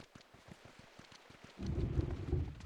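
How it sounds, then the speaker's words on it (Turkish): Thunder in the video game PUBG Mobile: a deep, loud rumble rolls in and keeps growling, following a run of soft rhythmic thumps like footsteps. "Abi gök gürültüsü yapmayın ya."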